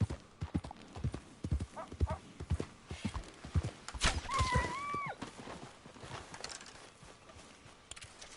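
A horse in Red Dead Redemption 2 clip-clops along at a walk, hooves thudding in a steady, uneven rhythm close by, with a brief whinny partway through and light voices murmuring in the background.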